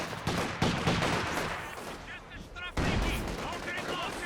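Battle noise from the video game Company of Heroes 2: dense MG42 machine gun bursts and explosions rattle on continuously while a commentator talks over the din.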